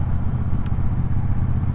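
A Triumph Speedmaster motorcycle engine on its first ride after restoration, a steady low rumbling drone with even, uninterrupted thrum, close and fairly loud.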